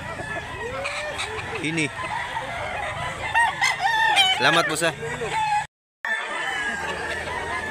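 Chickens and roosters at a gamefowl farm in Mantalungon, Barili, Cebu, crowing and clucking close by in overlapping calls, with someone talking over them.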